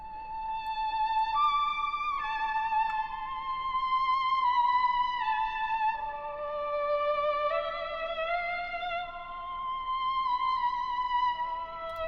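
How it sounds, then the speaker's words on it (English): Violin sample from the Nocturne Violin Bank processed with room reverb, vinyl-style lo-fi coloring and EQ, playing a slow, sustained melodic line of held notes that glide between pitches, steady and moderately loud with no voices. "The next element I added was a violin. This is from the Nocturne Violin Bank."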